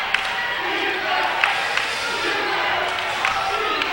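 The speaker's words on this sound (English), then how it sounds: "Crowd is calling for defense" Basketball crowd at a 2008 NU Lady Miners versus Tracy Lady Bulldogs women's game chanting for defense, a steady loud roar of voices with a few thumps over about four seconds.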